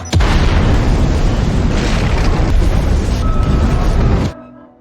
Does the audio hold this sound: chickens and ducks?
no